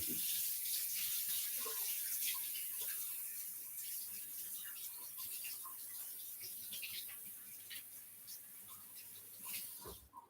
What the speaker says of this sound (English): So I'll wash my tater.